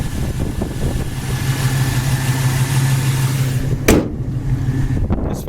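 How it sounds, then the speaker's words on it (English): A 1973 Chevy Nova SS V8 with electronic ignition idles steadily nearby, a smooth, even low rumble with a brief sharp knock near the end. "Engine seems to run well and idle well."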